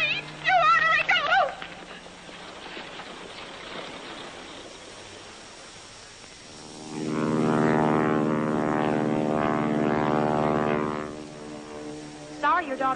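A propeller airplane engine swells to a loud, steady drone and then fades as the plane leaves, in a 1944 film. Voices speak briefly before and after the engine sound.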